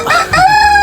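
A rooster crows in a small backyard coop housing native chickens, one loud, close, drawn-out call with a bright harmonic tone that rises and then holds steady.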